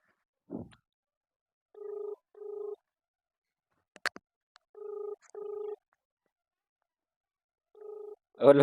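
A phone ringing on the line, three pairs of electronic ring tones separated by silences, with a few clicks and a brief voice sound between.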